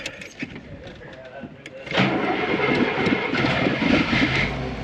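A Cadillac with a 500 cubic inch engine, primed from a 1 gallon gas can, cranks briefly and then catches into a loud, rumbling idle close by, with a voice heard over it.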